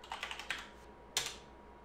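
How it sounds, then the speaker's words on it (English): Quiet computer keyboard typing with arrow keys pressed on a terminal during a Git tutorial, a quick series of soft taps followed by one sharper keystroke, heard close and alone. "the reason I'm getting these so fast is up and down arrows on my keyboard"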